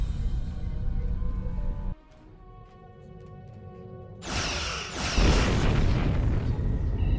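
Starship weapons and explosions in the space game Star Trek Online: a low rumbling hum breaks off into quieter whirring, then loud bursts of blasting and booming explosions fill the final seconds.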